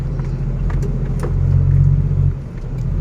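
A dump truck's engine rumbles loudly with a deep, throaty exhaust that swells for a couple of seconds, then dips briefly and settles back, close and continuous with no talking.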